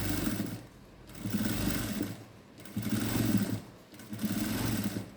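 A sewing machine stitches a net blouse neckline in four quick bursts of rapid mechanical whirring, separated by brief pauses, close and clear with no talking.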